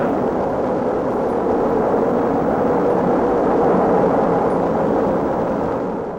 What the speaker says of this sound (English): Ignition is started. Liftoff.